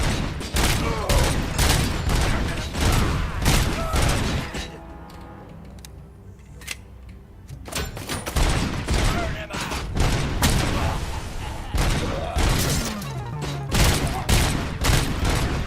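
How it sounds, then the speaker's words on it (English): An arcade machine is shot apart in RoboCop: Rogue City, rapid loud gunfire rattling in bursts with impact cracks and breaking debris, easing briefly midway before the shooting resumes, with faint talk underneath. "Did you hear that as the arcade broke?"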